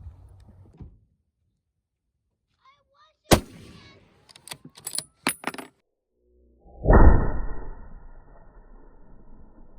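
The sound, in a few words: Savage 110 High Country 30-06 rifle shots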